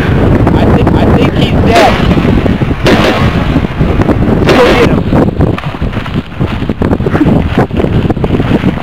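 Loud, dense gunfire opens on a Triceratops during a dinosaur hunt, with rapid cracks and heavy blasts mixed with wind noise and voices.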